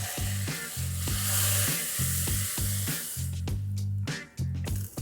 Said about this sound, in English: And now we'll just add a sprig of curry leaves to this.